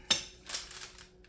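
Knife cutting through hardened pretzel toffee that stayed too soft to snap: a sharp crack followed by a few duller crunching taps, brief and close.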